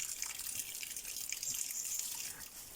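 A thin stream of water trickles steadily from a tap, a soft continuous splashing with light drips.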